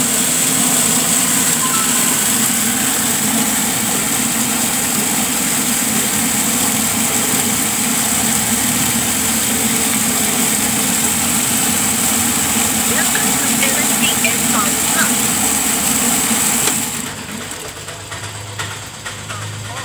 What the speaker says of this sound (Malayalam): ഇനി നമുക്ക് മോട്ടോർ ഓൺ ചെയ്യാം.